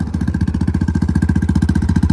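A motorcycle engine runs with a fast, steady low-frequency pulsing throughout, close and loud, with no talk over it.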